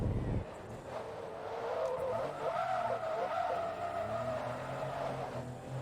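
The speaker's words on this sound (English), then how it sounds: "So I'll see if I can do another mini drift." Tires skid during a handbrake drift in the racing game Forza Motorsport 2, a sustained squeal over a droning engine for several seconds at a steady level.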